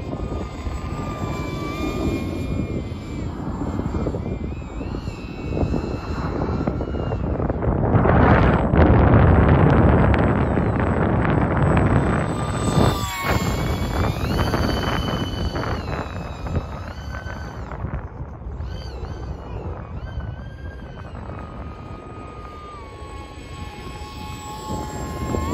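A large bomber aircraft flies overhead in bad weather, its engine roar swelling to a loud peak midway, then receding as a steady drone with heavy wind buffeting the microphone.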